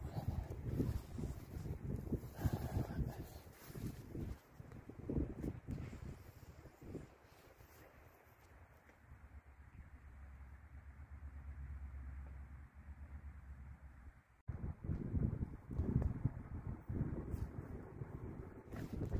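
Wind buffets the microphone in low rumbling gusts, with a quieter lull midway before the gusts pick up again.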